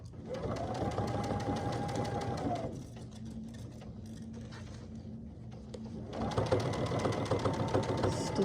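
A sewing machine stitches through a fabric pumpkin door hanger, running in a fast steady rattle, pausing briefly to a softer hum, then resuming its rapid stitching close by.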